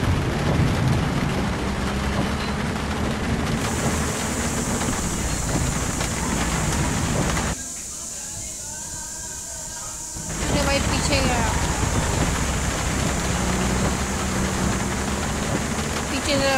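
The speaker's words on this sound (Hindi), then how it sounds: "बहुत तगड़ी हो रही है भाई बारिश।" Heavy rain and gusting wind roar steadily in the off-road driving game Russia Car Driver UAZ Hunter, a dense continuous wash that briefly drops away before returning, with someone talking over it.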